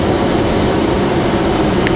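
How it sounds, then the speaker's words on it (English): A United Airbus A319 jet departing from the runway at Raleigh-Durham International Airport makes a loud, steady broadband roar that holds evenly for the whole moment, with no voices over it. "Followed by the United A319. That should be a good departure there,"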